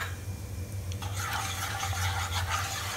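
A spiced potato and capsicum mixture being stirred in a pan, scraping and rustling strokes starting after a brief pause, with a low steady hum underneath.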